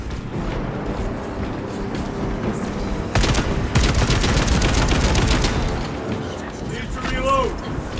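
Heavy automatic gunfire in Warhammer 40000: Space Marine 2 hammers out as a dense, loud rapid burst in the middle of the clip, over a constant rumbling battle din, with a voice speaking briefly.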